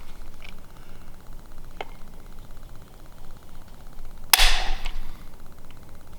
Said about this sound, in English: one last trigger test